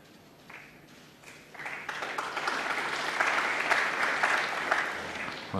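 Snooker crowd of around 2,000 at Alexandra Palace during the 2017 Masters final applauding, the clapping swelling after a second into sustained, dense applause that fills the hall.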